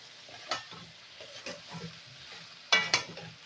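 Vegetables for a snakehead fish curry are stirred in a pan, with a few sharp spatula scrapes and clatters over a faint, low sizzle.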